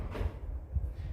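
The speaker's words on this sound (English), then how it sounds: "We have full extension, soft close drawers." A soft-close kitchen drawer glides shut in a home's great room, giving a short, low, muffled rumble with a gentle cushioned finish and no slam.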